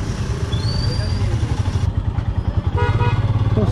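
Motorcycle engines rumble steadily in a roadside traffic jam behind a two-truck collision, with a brief car horn toot and voices talking nearby throughout.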